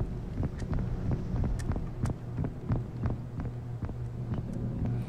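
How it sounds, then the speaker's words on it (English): Heartbeat in the horror game Lunch Lady: a low, steady thumping pulse under a constant hum, with sharp clicks or footstep-like taps scattered through the five seconds. "Because I hear that heartbeat."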